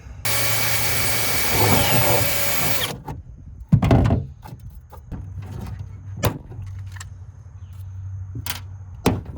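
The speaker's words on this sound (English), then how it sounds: "We're gonna drill one hole, put a rivet in to hold it in place" A power drill bores a rivet hole on a 12-foot jet jon boat build, whining steadily for about three seconds, then stopping; afterward come scattered clanks and knocks of tool handling over a low engine idle.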